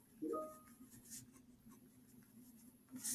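Pen or marker scratching notes by hand on a board or paper, a few brief faint strokes over quiet room hum, no talk.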